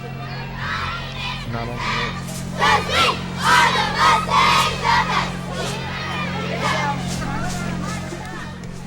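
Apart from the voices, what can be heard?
girls cheering for the Gamber Smallwood Mustangs at parade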